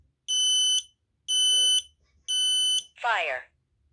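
A 2070 VDSR smoke alarm sounds three loud, piercing electronic beeps in an even pattern, each about half a second, followed by a short synthetic recorded voice message from the unit.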